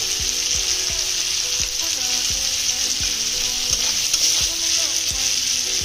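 Tomatoes and vegetables frying in a pan for a potato sabzi, with the tomatoes cooked down soft. A steady, loud sizzle runs throughout, broken by regular soft knocks of stirring.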